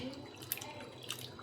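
Hands being washed with water at a sink, with faint trickling and a couple of small splashy drips standing out over a quiet background.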